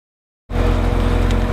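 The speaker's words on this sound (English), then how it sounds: "Behold the glorious Corvette ZR1 in its natural habitat." A Chevrolet Corvette ZR1 drives on the road, cutting in abruptly after silence with a loud, steady, close engine roar that holds to the end.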